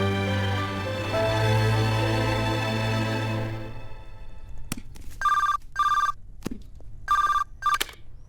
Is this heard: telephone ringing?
yes